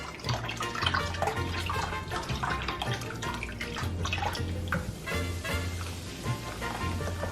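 Cola pours steadily into a pot, a continuous splashing, gurgling stream heard up close.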